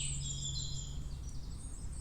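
Birds sing and chirp in the woods on a calm day, with high trilling calls over a steady low hum of insects and ambient forest background.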